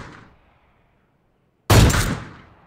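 A single loud gunshot in a shooting video game, a sudden close blast with a decaying tail after near silence, preceded by a fading earlier sound.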